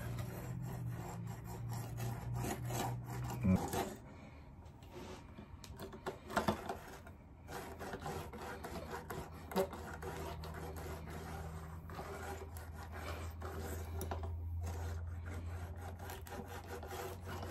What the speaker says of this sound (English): you're gonna have to apply some pressure to make sure that that blade penetrates that drywall